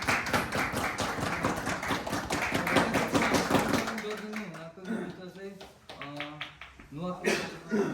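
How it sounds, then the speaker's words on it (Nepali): Applause for the best player at a snooker tournament in Nuwakot, Nepal: dense clapping from a crowd, loud at first and then thinning out as someone speaks over the last of it. "उहाँको लागि जोरदार ताली बजाइदिनु।"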